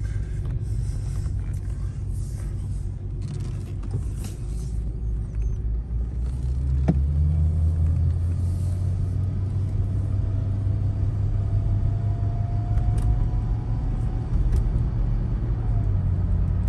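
Car engine rumbling low as the car accelerates and shifts into second gear, a steady drone that rises and swells slightly midway, heard from inside without talk.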